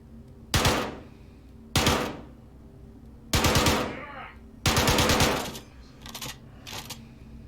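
Gunfire in the VR video game Star Citizen: four loud, sharp bursts of rapid shots with short gaps between them, followed by two fainter, quicker bursts.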